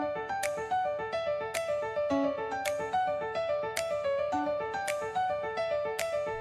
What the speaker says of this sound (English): Corporate podcast intro, confident and professional, driving piano and light percussion, modern and clean